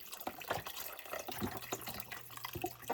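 Low sodium beef broth poured from a carton into a cooking pot, a soft continuous splashing trickle with small drips, close by and fairly quiet.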